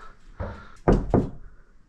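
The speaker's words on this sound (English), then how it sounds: "Knock, knock." Two firm knocks on a door, close and fairly loud, land in quick succession in an otherwise quiet room.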